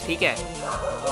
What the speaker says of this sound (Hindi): अगर बाहर से कुत्तों की आवाज़ आ रही हो तो प्लीज़ माफ़ कर देना